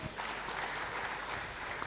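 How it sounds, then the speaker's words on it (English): Brief, fairly quiet audience applause at a tech convention for a lead DevOps engineer, a soft continuous patter of many hands lasting under two seconds. "Can we give a round of applause to him?"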